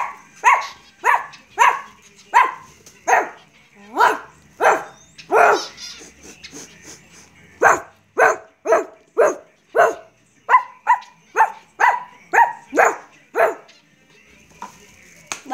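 A person imitating a dog, giving a long series of rhythmic barks and yaps in quick succession, close and loud, with a short pause midway before the barking resumes.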